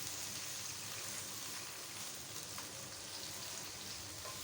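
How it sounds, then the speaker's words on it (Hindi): Finely chopped onions fry in hot oil in a karahi with a steady, soft, crackling sizzle throughout, fairly quiet and with no talking. "ऑयल गर्म हो जाता है तो साथ ही प्याज डाल दें"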